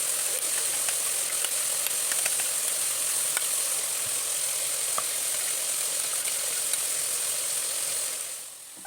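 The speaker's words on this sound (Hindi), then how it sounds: "फिर मैंने उसमें अदरक लहसुन डाल के भुना, फिर गोश्त डाल के भुना" Meat fries with ginger and garlic in a pot, giving a dense, constant sizzle with faint scattered ticks, close and loud, easing off in the final second.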